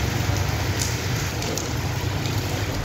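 Stormy rain falling in Kamalia and Vehari, Punjab, a steady broadband hiss with a low rumble underneath, continuous and moderately loud with no voices.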